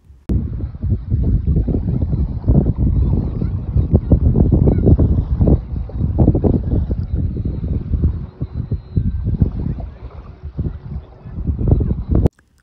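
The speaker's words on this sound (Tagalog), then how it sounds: "Nakaka-relax yung tunog ng alon." Steady rolling wash of waves breaking nearby, a continuous broadband roar with gentle surges, heavy wind buffeting the microphone throughout.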